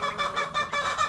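Flock of backyard chickens clucking and squawking close by, overlapping rhythmic calls in short pulsing bursts, no talk.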